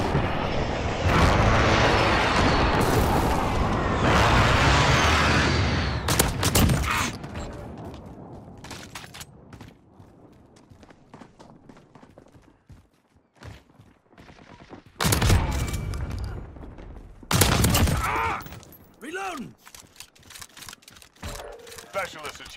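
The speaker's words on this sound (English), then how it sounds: "Enemy precision airstrike." Precision airstrike explosions and gunfire in a first-person shooter, with dense bursts of blasts and shots at the start, a quieter stretch of scattered pops, then two more loud explosive bursts, under game voice callouts.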